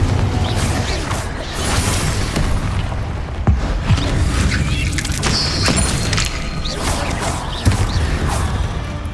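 Confringo fire spells exploding in the video game Hogwarts Legacy, a string of booming blasts and crashing impacts at irregular intervals, with a voice casting spells in between.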